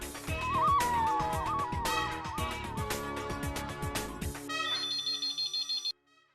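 A telephone ringtone sounds during a call. A bright melodic tune gives way to a run of short, evenly spaced electronic rings, clear and fairly close, then stops abruptly into silence.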